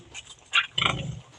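A mother pig that has just farrowed her first litter lets out two short squealing grunts, close by, with quiet pen noise in between.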